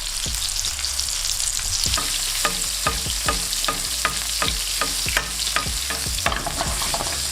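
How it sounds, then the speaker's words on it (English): Lamb chops sear in a hot pan, a steady sizzle running throughout while utensils clack and scrape against the pan in a loose, repeated rhythm, close and fairly loud with no talking. "Now give the pan a quick wipe and cook the next batch of your lamb chops."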